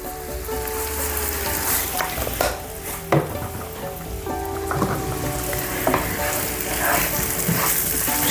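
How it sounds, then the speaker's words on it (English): Mushrooms sauté in olive oil with garlic powder and minced onion, a constant close sizzle broken by scattered clicks and scrapes of stirring utensils against the pan. "going to get these mushrooms sauteed like I said"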